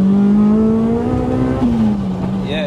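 A Rotrex-supercharged Honda Civic Type R EP3 pulls hard under acceleration, its engine note climbing in a loud, close in-cabin drone with a brief dip mid-pull and a high supercharger whine rising near the end.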